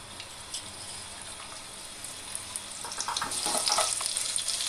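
Onion dropped into hot oil, a soft steady sizzle that swells louder and more crackly toward the end, close and alone with no voices.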